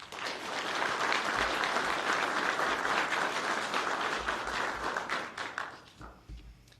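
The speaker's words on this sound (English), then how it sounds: "If we can give a round of applause for all our families and friends at home." A dense, sustained round of applause from the audience at a police academy graduation ceremony, loud and even for most of the clip before thinning out and fading near the end.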